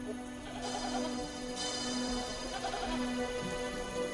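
Goats of Bedouin shepherds bleat on rocky cliffs near Qumran in the dry desert, a few repeated calls over steady background ambience at moderate distance.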